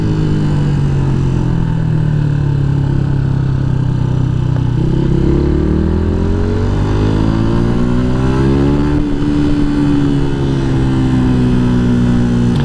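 A Yamaha MT 125 motorcycle accelerates, its engine note climbing steadily and then settling into a loud, continuous drone heard close up throughout.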